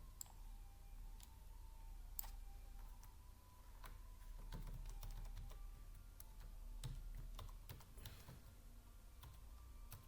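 Quiet, irregular clicking of keys on a computer keyboard during Python programming, soft taps scattered through a faint steady hum, with no talk.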